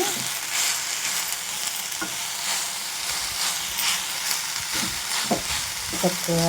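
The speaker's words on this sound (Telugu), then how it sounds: "నేను తీసుకున్న మెంతికూర తరుగు వేసేస్తున్నాను చక్కగా అంతా కలిసేలాగా అలాగా తిప్పుకోవాలన్నమాట" Leaves fry in a hot pan with a constant sizzle, broken by occasional scraping knocks of a spoon stirring them around.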